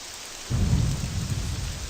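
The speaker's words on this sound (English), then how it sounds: "There's the thunder." Thunder and rain in the video game The Elder Scrolls: Legacy, a sudden deep rumbling thunderclap breaking in halfway through over a steady hiss of falling rain, loud and close with no talking.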